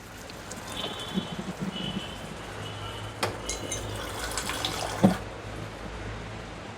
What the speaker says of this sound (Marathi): पाणी सोडतंय याच्यात